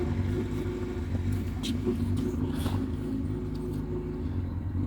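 Old garage-find car engine, stored almost 40 years and started for the first time, idling roughly with a low, uneven rumble and a few brief revs, moderately close, steady throughout.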